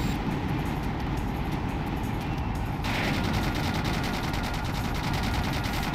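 Rapid mechanical gunfire in Sonic Adventure 2 rattles alongside a dense, loud, continuous game soundscape, with a sharp change in texture partway through.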